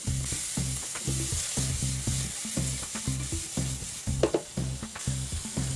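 Pork and wood ear mushrooms stir-fried in a hot pan, with a steady loud sizzle broken by regular rhythmic scrapes and clacks of a spatula tossing the meat, about twice per second, with no talking.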